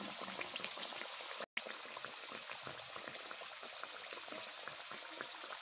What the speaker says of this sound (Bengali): এবার উল্টো পিঠটাকেও একই রকমভাবে ভেজে নেব।